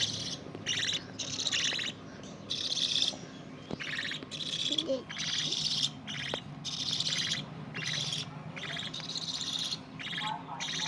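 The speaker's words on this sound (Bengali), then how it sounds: "তোমাকে কি বলে ডাকছে পাখি" Two pet birds kept at home give repeated high chirps and tweets in bursts of rapid calls, fairly close and clear, with occasional quiet background sounds between the calls.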